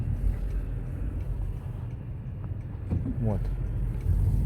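A Honda Shuttle with a manual gearbox pulls away after the throttle is pressed in bitter Yakutian cold, a low steady engine rumble with a brief rising rev toward the end and a short spoken word over it.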